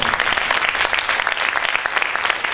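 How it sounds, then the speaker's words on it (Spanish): A church congregation claps loudly together, a brisk, dense burst of many hands with some rhythmic accents, close and alone without speech. "Vamos a aplaudir fuerte al Señor."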